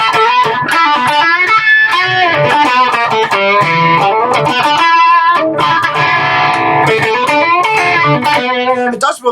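Ibanez RG60ALS electric guitar from the Axion series played loud through distortion, thick sustained chords and riffing with a brief drop near the middle, continuous and close with no talking.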